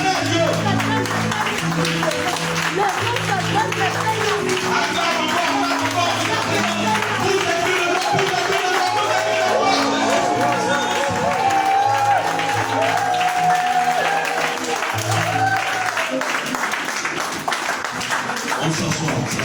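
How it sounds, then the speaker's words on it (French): A church congregation applauds and cheers in praise of the Lord, with loud sustained clapping and voices over music from start to finish. "Est-ce qu'on peut acclamer le Seigneur?"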